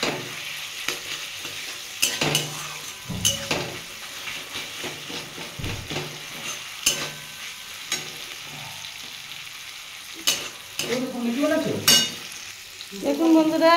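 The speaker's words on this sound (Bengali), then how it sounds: "আমার পেঁয়াজটা অনেকটাই ভাজা হয়ে গেছে। আমি এর মধ্যে আদা রসুনের পেস্টটা দিয়ে দিলাম।" Chopped onion fries with ginger-garlic paste for pumpkin dhoka, giving a close, continuous sizzle with repeated spatula scrapes and stirring strokes, and a few louder clatters toward the end. No one talks.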